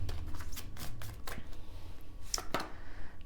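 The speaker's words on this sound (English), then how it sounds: "I want to pull these angel number cards" Angel number cards being shuffled by hand, a series of soft quick riffling and flicking bursts, close and fairly quiet, with no talking.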